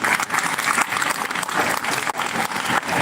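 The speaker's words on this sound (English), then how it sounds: "we give them a big round of applause" At an English speaking competition, the audience gives loud, sustained applause for the organizing committee, judges and MCs, a dense continuous roar of clapping with a few brief dips.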